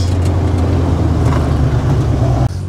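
Chevrolet C10 pickup with a V8 engine running steadily, a loud close low rumble that holds even, then drops briefly near the end and settles slightly quieter.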